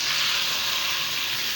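Onion, tomato and pepper fry in hot oil, making a constant, close, hissing sizzle with no voices over it.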